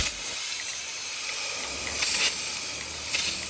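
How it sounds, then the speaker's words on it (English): Compressed air blasts dust out of the clogged radiator on a Wood-Mizer Super 70 sawmill, a steady loud broadband hiss with a few brief surges. "keeping this radiator compressed air cooled and blowing it out"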